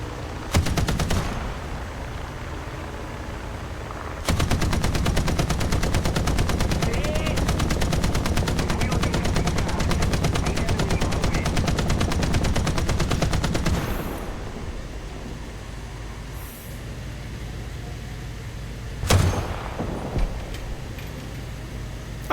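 Sustained rapid machine-gun fire in War Thunder rattles loudly for roughly nine seconds, followed by quieter battle rumble and a sharp blast near the end.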